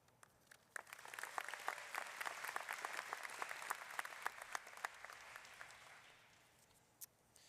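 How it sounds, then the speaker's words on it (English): Audience applause at a university athletics commencement for graduating student-athletes, a steady wave of clapping that swells then fades, heard alone. "Let's give another round of applause for all of our 2025 student-athlete graduates"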